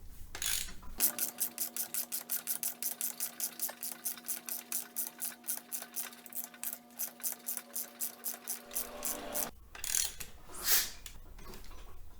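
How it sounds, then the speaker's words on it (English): Ratchet wrench with a 22mm socket turning a harmonic balancer bolt on a Dodge, Jeep, Chrysler or Mitsubishi engine, a rapid, regular clicking run of pawl ticks lasting several seconds, then a few slower clicks, close and faint. "All right, using a 22mm socket."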